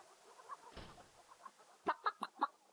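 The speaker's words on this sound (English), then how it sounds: "Charming old rooster." A rooster clucks in the video game King's Quest III: four or five quick, close clucks in a burst near the end, after a soft low thump, over a faint background.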